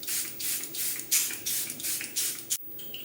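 Several quick, hissing sprays of a Charlotte Tilbury makeup setting spray bottle come close to the microphone in short bursts, followed by a small click and quiet.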